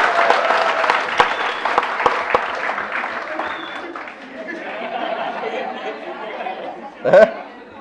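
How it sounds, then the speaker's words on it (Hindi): A class claps in scattered, fairly sharp bursts over lively chatter. The clapping thins out after a few seconds while talk and a little laughter carry on. "ताली बजाओ भाई"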